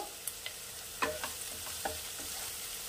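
Chopped ginger sautéing in a pan over a very low flame, a soft steady sizzle broken by a few sharp spoon taps and stirring clicks, quiet and close.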